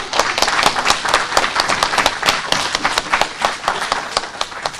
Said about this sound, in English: So I want everybody to clap for him now.